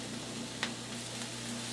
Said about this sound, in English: So now we're going to have the onions cook down.